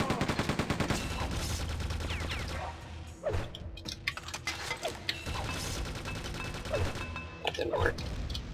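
Gunfire from enemies in Quake 2 rattles in rapid bursts amid mechanical weapon clanks and game effects, loud and continuous, with a person talking over parts of it.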